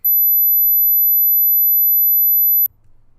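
A steady pure 12 kHz test tone, very high and thin, holds at constant level for about two and a half seconds and then cuts off abruptly, leaving faint low background hum.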